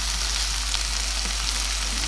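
Paneer shallow frying in a pan, giving a steady close sizzle with no talking.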